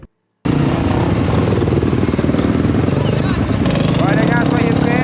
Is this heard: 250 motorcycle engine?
yes